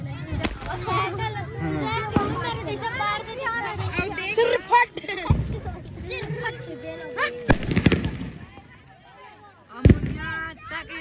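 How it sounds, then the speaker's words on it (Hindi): Firecrackers burst during a Diwali evening celebration in a village, sharp loud bangs landing a few seconds apart, including a firecracker set off in the hand, amid constant excited talking and children's voices. "ये दे अभी हाथ में फोड़ने वाला है मोनिका दीदी।"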